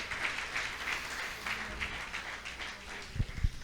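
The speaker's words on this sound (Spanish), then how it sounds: "Vamos, denle un aplauso a la voluntad perfecta de Dios." A church congregation applauds together in a sustained round of clapping, moderately loud and diffuse, with a couple of sharper thumps near the end.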